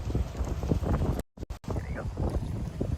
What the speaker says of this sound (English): Now you know how windy this is.